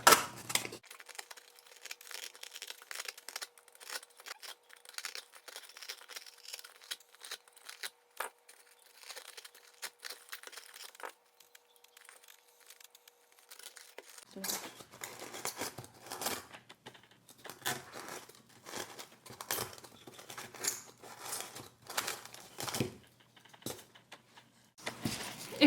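A craft knife slices around a foam cone, producing close, faint, irregular scratchy crackles and crunches that continue in bursts, with no talk heard.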